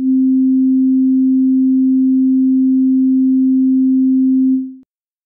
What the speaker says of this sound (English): they would all sound like a sine wave with a frequency of 262